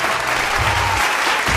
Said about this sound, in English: And as everyone applaud.